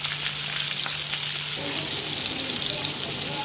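Mutton chops browning in a frying pan give a steady, close hiss of frying with a few light stirring scrapes, running continuously without talk.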